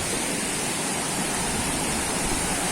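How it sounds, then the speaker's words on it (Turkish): A roaring waterfall in Aladağlar National Park gives a dense, steady, loud rush of falling water, unbroken from start to finish with no voices. "suyun gürlüğünden artık sesim daha zor duyulacak"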